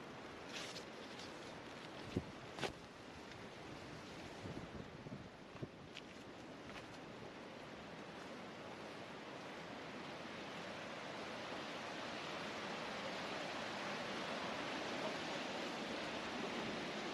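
Mountain runoff water flows steadily as a broad, even rush that grows slightly louder over time, with a few faint knocks and clicks early on.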